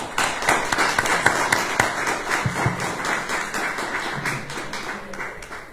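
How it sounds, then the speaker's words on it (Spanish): An audience at a lecture event in a hall claps together in a dense, steady burst of applause, fairly loud and close, with a few low thumps and no speech. "Demos un aplauso y bienvenidos sean."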